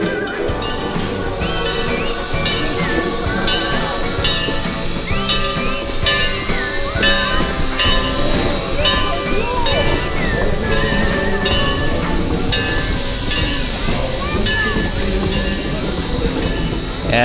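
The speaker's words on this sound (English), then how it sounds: "And that sound can only mean one thing: the train is coming through." A decorated holiday train with lighted wreaths on its cars rolls through, loud and steady for the whole stretch, with a bright ringing bell and wheel clatter carrying over a dense rumble of movement.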